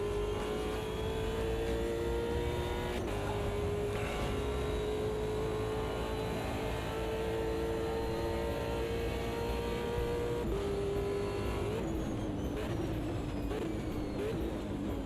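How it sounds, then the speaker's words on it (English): Race car engines in Automobilista 2 at Monza: a steady high-pitched engine drone held at speed with gear shifts and pitch drops under braking into corners, loud and continuous. "These cars quite enjoy long trail braking through corners like that"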